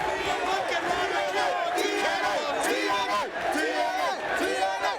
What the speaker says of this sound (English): Oh, the crowd.